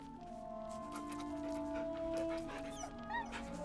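Scratch, the dog in Baldur's Gate, whimpering and yipping softly while being petted, brief rising whines over sustained musical tones.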